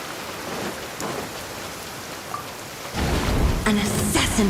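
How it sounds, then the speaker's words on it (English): Rain and thunder in the video game Genshin Impact: steady hiss of rainfall with low rumbling, swelling into a louder burst of downpour and thunder toward the end. "Oh no, it's raining!"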